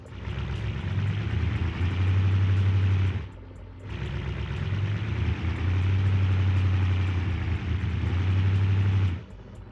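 A V8 car engine in the BeamNG driving game, revved in first gear while held against the brakes, gives a loud, steady, deep drone in two long stretches with a brief drop in between.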